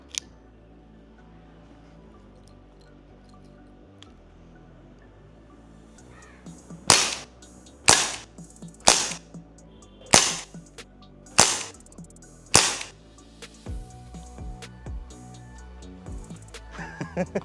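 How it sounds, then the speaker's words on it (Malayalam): A Precihole NX200 air rifle fires in single action, six sharp, loud cracks spaced roughly a second or so apart, each ending quickly, over a quiet outdoor background. "അപ്പം സിംഗിൾ ആക്ഷനിൽ ഫയർ ചെയ്യാം"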